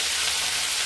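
Leaves going into a hot pan with dried chili and garlic sizzle steadily, a continuous close frying hiss with no pause and no voices.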